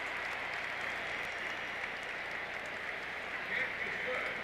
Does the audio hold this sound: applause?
yes